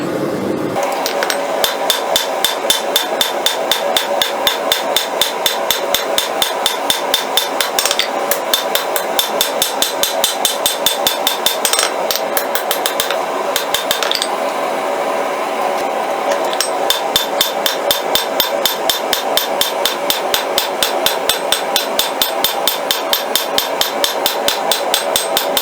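Rapid, steady hammer blows on a railroad spike being forged into a Bowie knife blade, thinning the spine on an anvil; loud, close, evenly spaced metallic strikes continue throughout with no talking.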